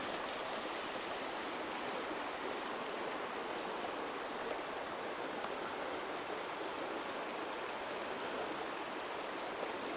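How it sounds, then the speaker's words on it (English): The Bear River flowing past a campground makes a steady, dense rush of water, constant and unbroken throughout with no voices. "just a shot of the river from the edge of the campground"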